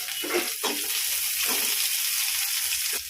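Drumstick leaves frying in oil with mustard seeds, garlic and onion, a steady close sizzle with a few soft stirring scrapes, no talking.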